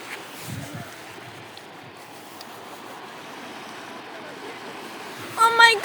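Sea waves wash onto a shore in a steady, soft rushing wash, with wind noise throughout and a brief voice toward the end.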